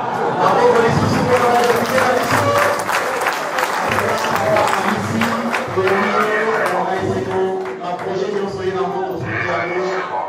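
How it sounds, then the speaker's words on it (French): Audience applause for a departing speaker at a parliamentary report-back meeting in a Muanda hotel, loud dense clapping mixed with crowd chatter and voices throughout. "Il sort sous les applaudissements."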